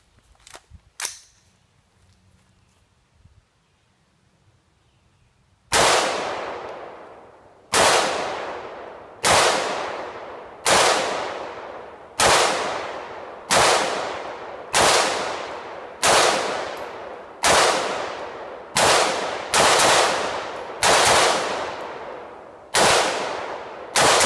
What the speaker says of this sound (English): So I got a mag with 25 rounds in, and we're gonna unload on the keg